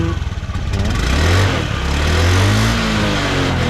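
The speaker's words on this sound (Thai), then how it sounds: "เดี๋ยวเร่งเครื่องให้ดูนิดนึงนะ" A 2015 Honda Scoopy i scooter, puffing white smoke and shaking under load, revs up close by, its engine note rising and swelling after a rough idle.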